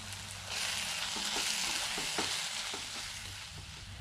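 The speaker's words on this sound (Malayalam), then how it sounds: "മുളക് പൊടി, മഞ്ഞൾപ്പൊടി, ഉപ്പ് ഇതും കൂടി ചേർത്തിട്ട് നമുക്ക് നന്നായിട്ടൊന്ന് മിക്സ് ചെയ്യാം" Tomatoes with chili powder, turmeric and salt stir-fry in a pan for a karimeen pollichathu preparation, a steady close sizzle with scraping stir strokes of a spoon throughout, no voices.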